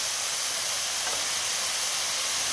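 A mushroom mixture sizzles in a hot pan, a steady bright hiss holding evenly throughout with no voices, close and fairly loud.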